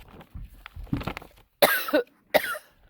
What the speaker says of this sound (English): Grandma's starting to cough.